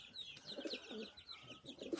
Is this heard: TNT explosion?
no